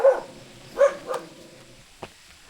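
A dog barks twice nearby, two short sharp barks a moment apart, followed by a faint click and quiet.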